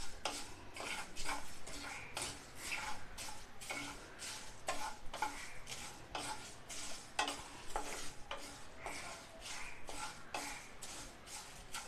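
Spice masala with cinnamon pieces being dry-roasted in a pan for village-style masala, quiet repeated scraping and stirring strokes with light crackles in a steady rhythm, no talking.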